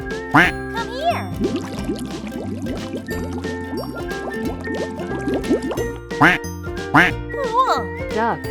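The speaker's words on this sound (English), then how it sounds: "Duck." A toy duck sound gives bursts of quacking over a bubbly, jingling tune, loud and near. A few sharp quacks stand out toward the end.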